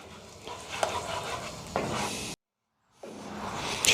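Egg gravy being stirred in a pan as it comes back to a boil: close, scraping spoon strokes with a soft bubbling sizzle, broken by a brief silent pause before stirring resumes.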